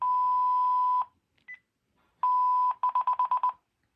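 A loud electronic tone from a Panasonic KX-TG6434 cordless phone answering machine holds steady for about a second, then after a short gap returns, followed by a quick run of six rapid beeps. No talking.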